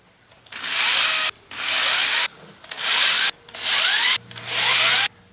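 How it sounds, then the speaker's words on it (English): Four bursts of a power drill drilling holes for a propane forge burner, each about a second long with short pauses between, close and loud. "So let's get some drilling."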